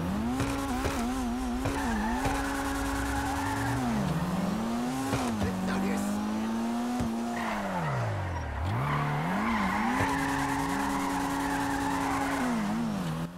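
A car in GTA 5 Online revs and accelerates with its engine pitch sweeping up and down through gear changes, while tires squeal and skid in long screeching stretches, loud and continuous throughout.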